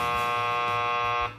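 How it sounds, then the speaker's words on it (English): A game-show style buzzer pressed during a sports radio show, one loud steady electronic buzz that holds for over a second and then cuts off abruptly. "He had that buzzer ready."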